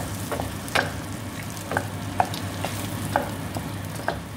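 Buttered vegetables sizzle in a hot pan as they are stirred, a soft steady frying hiss punctuated by several light scraping clicks of the utensil at irregular intervals, with no voices.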